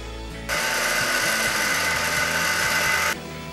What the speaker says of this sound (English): So I now grind material from the thrust plate,